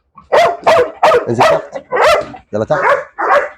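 A dog being coaxed down a staircase during training gives a run of short barks, close and fairly loud, mixed with someone speaking encouragement over it.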